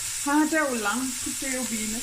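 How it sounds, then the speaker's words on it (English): Bones and garlic fry in a pan for a Cape Malay tomato bredie, giving a steady sizzling hiss beneath a person who talks throughout. "Then I'm going to add the bones and the garlic. Fry that together"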